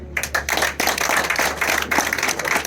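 An audience at a Rwandan bride-asking ceremony claps in a close, uneven burst of applause that holds steady for a few seconds, with no talking.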